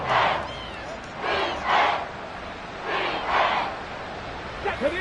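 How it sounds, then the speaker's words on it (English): A stadium crowd at Arrowhead roars during a football game, rising and falling in loud surging waves that swell twice and then again, with a broadcast voice faintly underneath. "The Arrowhead crowd in full roar."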